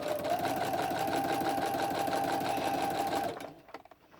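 A sewing machine stitches quilt binding at a fast, even hum with rapid needle pulses, running steadily for about three seconds before stopping abruptly into quiet handling noise.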